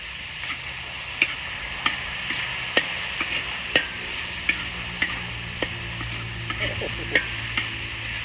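Khao soi noodles stir-fried with long beans in a Shan-style kitchen: a steady sizzle under regular, sharp spatula scrapes and taps that come roughly every half second, close and clear.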